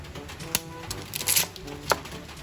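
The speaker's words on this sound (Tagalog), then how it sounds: "Bago natin hiwain yung itlog na maalot." A knife slices through a salted egg with a few quick, close clicks and crunchy taps against a board, under faint background hum.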